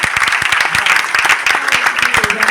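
Loud, dense applause from a meeting audience in Sirsa, cheering a man over sixty who took a franchise, steady clapping throughout with some voices mixed in.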